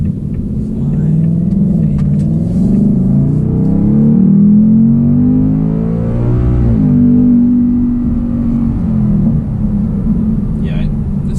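A 2024 Ford Mustang GT with a 10-speed automatic accelerates hard, its deep, loud engine roar climbing steadily in pitch, dipping briefly at a gear change partway through, then rising again.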